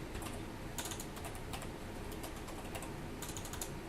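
Steady typing on a computer keyboard while writing iOS code, a dense, continuous patter of close key clicks with occasional heavier strokes, no voice present.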